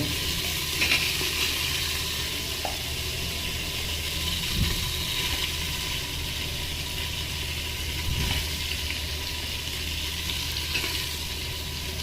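Onions sizzling in hot oil for chicken biryani, a steady dense frying hiss throughout with a few faint stirring scrapes, close and continuous with no voices.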